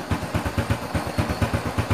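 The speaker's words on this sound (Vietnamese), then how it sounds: "bây giờ xe đã nổ nhá, xe đã nổ máy và chạy lăn bánh bình thường nhá" A Honda Wave 110 motorcycle engine runs near and steady, its low pulsing beat repeating evenly with a rattly mechanical edge.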